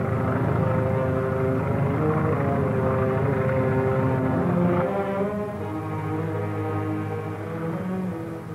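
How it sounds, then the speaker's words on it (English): An airplane drones overhead with a loud, steady propeller-engine roar that shifts in pitch partway through as it passes, continuous and dominant throughout. "Hear that plane?"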